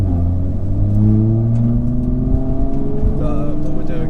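Mk5 and Mk4 cars accelerate hard side by side in a drag race, engines droning loud and close with rising harmonic tones, while voices talk over the run.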